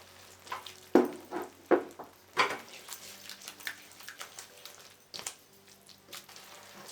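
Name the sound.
tomato puree frying and being mixed in pan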